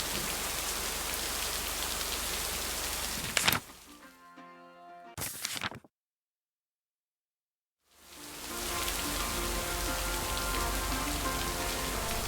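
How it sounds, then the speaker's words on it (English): Steady rain hisses down in the video game Lake, cutting off abruptly into a short tonal passage and then total silence before the downpour resumes at full strength. "You would broadcast the rain more likely."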